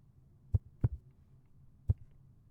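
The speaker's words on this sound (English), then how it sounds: "I tried to play a heartbeat." Heartbeat sound effect played back, low thumps in a lub-dub pair followed by a single beat after a pause, fairly faint and alone.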